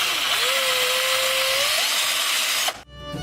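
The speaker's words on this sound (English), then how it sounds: "I'm going to drill it out. I'll probably drill all these out because these holes are just microscopic" A power drill whirs loudly and steadily as it drills out the small string holes on a fiddle, then cuts off abruptly near the end.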